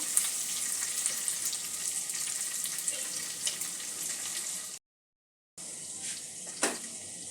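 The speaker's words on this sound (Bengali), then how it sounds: "সব কিছু 2-1 মিনিট একটু ভেজে নেব" Grated ginger and tempering spices fry in a pan for a poha recipe, making a steady close sizzle that cuts out briefly to silence and then resumes with a couple of stirring knocks.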